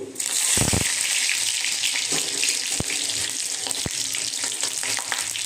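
Garlic frying in hot oil with panch phoron and dried red chili, giving a steady bright sizzle with a few sharp clicks and taps from the pan. No one speaks.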